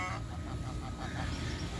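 Geese and ducks being hand-fed make soft honks and quacks amid a dense, noisy outdoor wash, steady and close for a brief moment.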